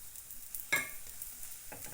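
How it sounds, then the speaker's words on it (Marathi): Oil poured around the edge of a potato paratha on a hot pan gives a short sharp sizzle burst, then a faint steady hiss with one more soft flare near the end. "आता मी साईडने तेल टाकते"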